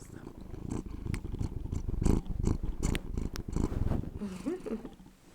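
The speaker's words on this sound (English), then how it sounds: "And he's purring." A cat purrs right against the microphone in a comfy home, a loud, rhythmic, rumbling purr with soft breathy pulses that fade near the end.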